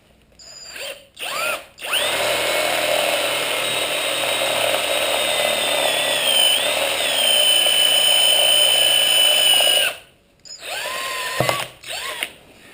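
A power drill bores a hole in the bottom of a Honda XR650R motorcycle frame rail, a long steady high whine lasting several seconds with brief starts and stops on either side.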